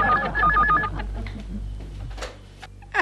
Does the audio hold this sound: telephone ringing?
yes